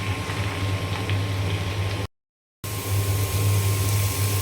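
Coarsely chopped leafy greens fry in a pan with a steady, dense sizzle, close and even, briefly cut to silence midway before resuming just as strongly.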